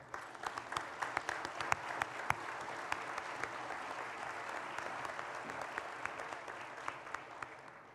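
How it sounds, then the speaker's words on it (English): Continuous, moderately faint applause from an audience at a scholarship reunion dinner, an even wash of many hands with occasional sharper claps, lasting about eight seconds. "let's give everyone a round of applause for their continuous support."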